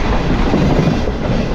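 The Green Line Express train rushes along at speed while overtaking another train, a loud, steady roar of wheels and rattling carriages heard from on board.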